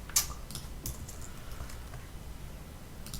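Typing on a computer keyboard, a light patter of quiet clicks close by, scattered unevenly across the moment with one sharper tap near the start and no talking.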